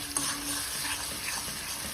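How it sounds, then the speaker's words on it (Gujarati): Garlic frying in oil on a stovetop for a chutney, a steady soft sizzle with faint stirring scrapes, close and continuous with no talking. "સારી રીતના આપણે લસણને શેકાવા દઈશું તેલમાં"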